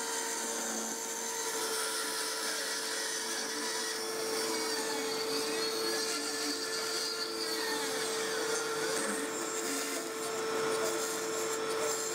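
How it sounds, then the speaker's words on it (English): Bandsaw cutting a guitar template in salvaged oak, a steady continuous hum and rasp at moderate level with a constant motor tone throughout, no talk. "I cut out the template on the bandsaw."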